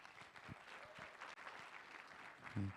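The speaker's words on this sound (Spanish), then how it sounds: "Una vez más, por favor, vamos a dar fuertes aplausos." Applause from a church seminar audience, a steady patter of clapping hands heard faint and somewhat distant, continuing across the whole stretch.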